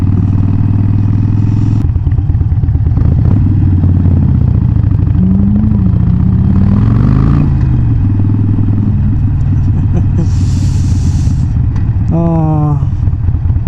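A Harley-Davidson motorcycle engine runs loud and near with a throbbing exhaust that rises and falls as it is revved, then drops back to a lumpy idle.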